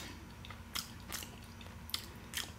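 Crisp, crunchy bites and chewing on a buttery, nutmeg-spiced homemade pie crust, four distinct close crunches spaced across a quiet background with soft mouth sounds in between.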